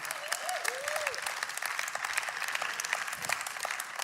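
Steady, sustained applause from a church congregation at an ICF Zürich service fills the space with dense clapping, a few voices and whoops rising faintly underneath.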